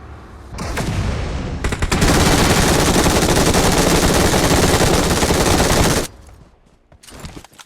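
A machine gun fires in the BGMI battle-royale video game: a loud, sustained automatic burst lasting about four seconds, preceded and followed by a few scattered shots, with no talking.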